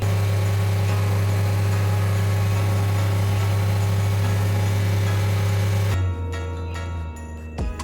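Diesel engine of a second-generation Citroen Berlingo (DV6) held at about 3000 rpm during a DPF regeneration, a loud steady drone that drops away sharply near the end.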